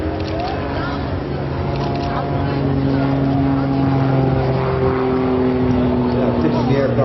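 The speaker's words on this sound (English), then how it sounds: "Now pulling back on the power, pull the rudder, bring the aircraft around into the hammerhead" A display aircraft's engine drones steadily from a distance at an air show as the plane is throttled back and swung into a hammerhead, the tone shifting slightly under a commentator's voice.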